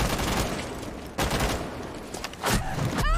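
Gunfire from a video game: bursts of shots and broadband impacts over a steady rumble of in-game noise, with a sharper loud burst near the middle and again toward the end.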